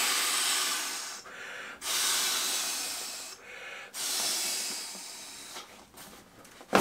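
Air rushes steadily into an Aeros Ultralight pillow through its one-way valve, three long breathy blows separated by short pauses, close and fairly loud with no talking.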